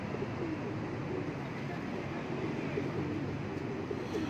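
Pigeons coo on a rooftop loft, soft repeated low murmuring calls running continuously beneath a steady broadband background rumble, faint and somewhat distant.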